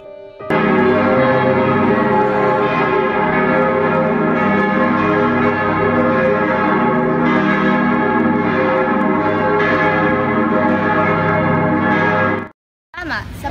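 Church bell rung in a staged short film, a sustained loud ringing with dense overlapping tones for about twelve seconds before cutting off abruptly.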